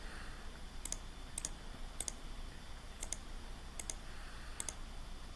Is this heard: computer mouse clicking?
yes